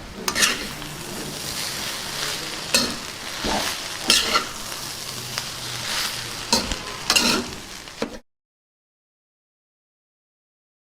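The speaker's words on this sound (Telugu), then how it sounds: "ముందుగా వండి పెట్టుకున్న అన్నాన్ని ఇందులో వేసేసుకుందాం మొత్తాన్ని ఒకసారి కలుపుకుందాం" Cooked rice is stirred into mint fried in a pan, with a steady sizzle and scraping strokes of the spoon at a regular pace, close and fairly loud, stopping abruptly near the end.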